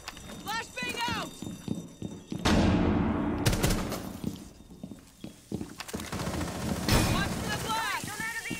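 A flashbang grenade detonates in Rainbow Six Siege as a loud, sudden blast that rings and fades over about a second, amid scattered gunfire and clattering footsteps, with voices talking over the action.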